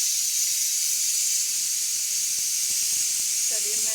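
A pressure cooker on a home kitchen stove releases a steady, loud hiss of steam throughout, with a brief voice-like sound near the end.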